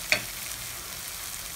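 Onions and tomatoes sizzle in hot oil for a prawn curry, a soft steady frying hiss with one brief stir or clink at the start and no voices.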